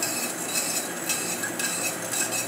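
A spoon scrapes and clinks around a pot as sugar is stirred into water over a gas flame to make syrup for gulab jamun, giving a continuous soft metallic swishing with light clinks and no talking.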